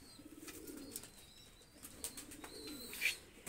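Pakistani pigeons coo softly in a few low, rounded calls after being let go, with faint chirps and a brief flutter of wings near the end, fairly quiet and close.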